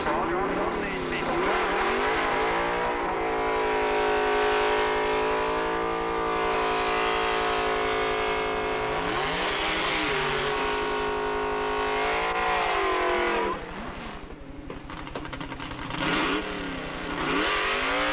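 At a drag strip, a race car with a 302 V8 and a four-speed manual transmission accelerates. The loud engine revs and climbs in pitch through gear changes, staying close and dominant for most of the stretch before easing off near the end.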